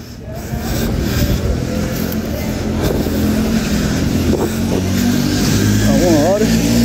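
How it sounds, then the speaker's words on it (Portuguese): A motorcycle passing along a street at night in Porto, heard as a loud, continuous engine and road roar with wind buffeting the microphone, steady from start to finish. "O cara da moto passando aí."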